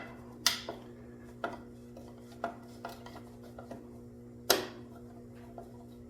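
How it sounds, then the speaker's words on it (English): Air breather being removed from the engine of a 1973 AMF garden tractor: a few sharp metallic clinks and light taps, close and sparse, over a faint steady hum. "I'm gonna go ahead and take this air breather off here just so we can get down in there"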